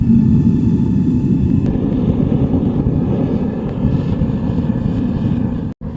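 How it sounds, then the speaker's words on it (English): Vevor 12 kg gas melting furnace lit with newspaper and gas, the burner giving a loud, continuous close-up roar that holds steady throughout and cuts off briefly near the end. "So now it's time to light the furnace."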